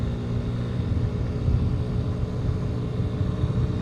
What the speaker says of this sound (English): we're Full throttle, a little bit uphill.